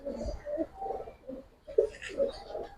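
A pair of Hungarian Budapest pigeons coos in low, repeated bursts, fairly close, with a few brighter calls toward the end.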